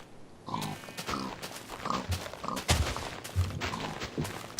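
A Minecraft pig is hit repeatedly in the video game, giving a run of loud, close grunts and oinks with thuds of the blows in an uneven rhythm.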